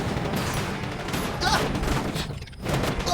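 Rapid gunfire shooting at a pile of money in a challenge, a dense rattling fusillade of overlapping shots with a few louder bangs, close and loud, with a brief gap before another burst.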